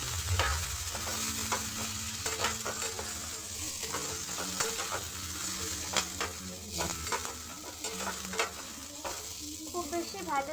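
Chopped onions and tomatoes sizzle steadily while frying lightly in a pan for chicken do pyaza, with stirring scrapes and clinks throughout, close and continuous, no talk.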